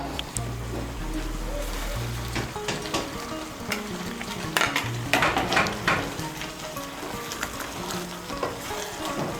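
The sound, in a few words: stirring egg korma ingredients together in a pan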